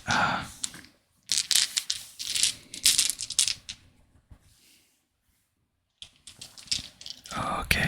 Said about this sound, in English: it's the standard dice you get with the starter pack.